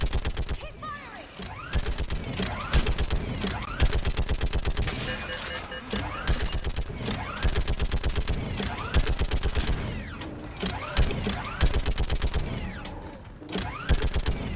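Sustained automatic weapon fire in Mass Effect 3 combat, rapid machine-gun bursts repeating in long stretches with short gaps, loud and close, with battle noise around them.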